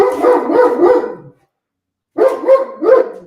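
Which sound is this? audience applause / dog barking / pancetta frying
dog barking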